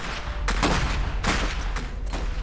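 Rapid gunfire crackles through a battle in the Iron Harvest strategy game, with loud overlapping bursts of shots layered over a dense, constant combat din.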